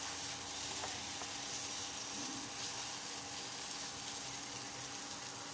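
Beaten egg sizzles steadily in a hot pan while being spread into a thin sheet for temple-fair style pad thai, a continuous close frying hiss with occasional faint clinks and no talk.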